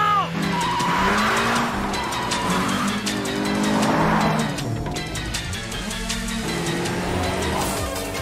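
A Toyota AE86 and a Nissan R32 GT-R race in an anime, engines revving loudly through rising and falling gear changes with tire squeals layered over the roar.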